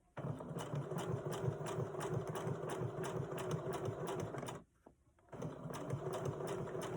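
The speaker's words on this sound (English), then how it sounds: "I'm going to sew up the first seam, and you have to go slowly" A sewing machine stitches a seam on fabric for a cut-and-sew owl project, running in a steady rapid whirring rhythm nearby, pausing briefly partway through and then resuming.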